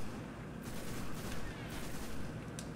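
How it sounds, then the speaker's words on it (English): Auto rifle fire in Destiny: a quiet, steady stream of rapid automatic shots with a few slightly louder bursts, forming a continuous rattle throughout. "Gotta get used to this new auto rifle."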